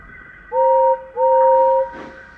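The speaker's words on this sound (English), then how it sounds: "5344's whistle resounded through the yards." Two long steady whistle blasts, a short pause between them, clear and prominent over a quiet rumbling background.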